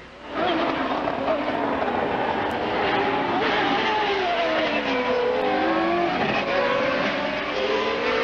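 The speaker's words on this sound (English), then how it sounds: "Let's listen, see how those engines are sounding." IndyCar race car engines screaming around the track near the corkscrew, loud sustained high-revving engine tones rising and falling as the cars pass, with several engines overlapping.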